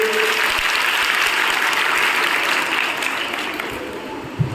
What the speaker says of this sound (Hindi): आपसे जोर से तालियां बजाइए